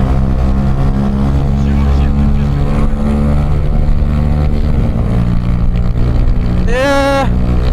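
Honda Grom motorcycles, one with a Yoshimura exhaust and one with a cheap AliExpress exhaust, drag race in second gear, their loud, droning engines revving close by with a sharp pitch sweep near the end.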